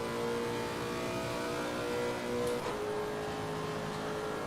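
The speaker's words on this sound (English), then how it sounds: "The engine of the Lexus is always amazing to listen to." A Lexus V8 race car at Watkins Glen, a steady loud engine drone with a sustained tone that dips briefly as if shifting, then carries on, no talking.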